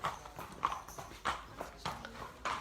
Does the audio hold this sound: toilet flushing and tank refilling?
no